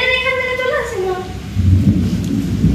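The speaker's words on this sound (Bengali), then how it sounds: "না না বিদ্যুৎ চমকাচ্ছে" Thunder rumbles during a heavy rainstorm, a deep low roll building near the end over the steady hiss of rain, while voices talk at the start.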